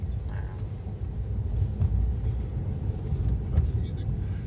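A Tesla rolls through Houston city streets, giving a low steady road rumble inside the cabin while someone talks over it.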